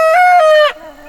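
A single drawn-out, loud chicken call comes up close from meat birds kept in a movable bird tractor on an orchard-side farm, followed by a softer low cluck.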